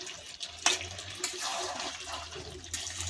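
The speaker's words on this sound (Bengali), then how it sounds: "এবার অল্প করে জল দেব" Water poured into a pan of jackfruit chicken curry, a steady splashing rush with a short bright clink at the start, heard close and alone.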